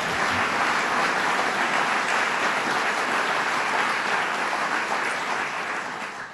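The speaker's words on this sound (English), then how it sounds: "Let's give him a round of applause" An audience at a New York State business announcement applauds a senator, producing a full, steady roar of clapping that holds evenly throughout and fades slightly at the close, with no talking over it.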